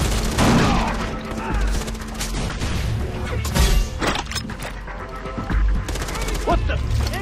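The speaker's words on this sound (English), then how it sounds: "Throwing grenades!" Grenade blasts and gunfire in the video game Far Cry 3, a dense, loud barrage of booms and shots running throughout, with players shouting over the noise.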